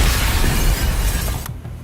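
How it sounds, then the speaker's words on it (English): Crystal shattering in the game Nikke Goddess of Victory, a loud dense crash of breaking fragments that rings on for over a second, then drops away into a quieter tail. "As the crystal shatters"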